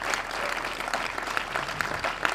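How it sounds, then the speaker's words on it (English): Steady audience applause at a university retirement ceremony, many hands clapping together in a dense, even wash with a few sharper claps standing out. "let's have a round of applause for the music department and Professor Adzenyah"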